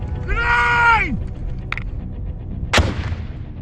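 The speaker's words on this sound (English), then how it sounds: "Having a live grenade go off, literally a few metres from you, you feel it go through you." A live grenade bursts a few metres away during a Parachute Regiment final exercise: one sharp, loud, close blast, preceded by brief wavering vocal-like tones and faint background noise.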